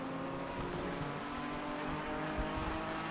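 A GT4 race car lapping Laguna Seca in a racing video game, a steady engine drone with shifting revs and gear changes, continuous and moderately loud.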